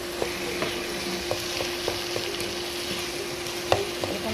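Taro greens frying in a pan as they are stirred, a steady sizzle with soft scraping strokes at irregular intervals, close and alone without talk.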